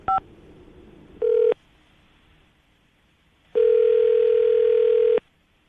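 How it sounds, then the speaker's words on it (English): Telephone dialing a number: a short two-tone keypad beep, then a brief steady tone and a long steady ringback-like tone, with quiet line hiss between, no voices. "I'm going to dial her phone number right now"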